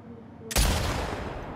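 Gunfire in The Last of Us Part II Remastered: after a quiet moment, a sudden loud blast rings out and decays into a long, rumbling tail.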